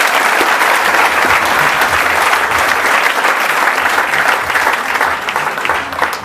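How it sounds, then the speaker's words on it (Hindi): Loud, dense applause from a large audience at a talk by Dr. G.L. Sharma, steady and sustained throughout with no speech over it, easing slightly near the end. "जोरदार तालियां बजाओ"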